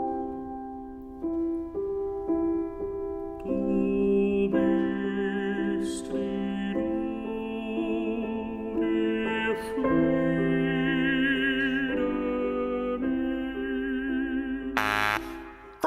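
Schubert's Lied "Du bist die Ruhe" in a classical recording, a sustained singing voice over steady piano, slow and continuous at moderate loudness with no talk.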